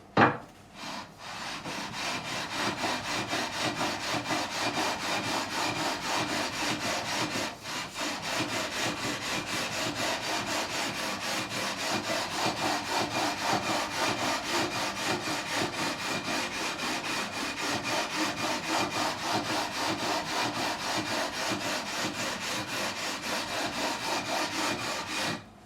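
Guitar frets on an Ibanez Mick Thomson MTM-20 are leveled with 240 grit abrasive, a continuous rhythmic back-and-forth rasping scrape close up, steady for the whole stretch with no talking.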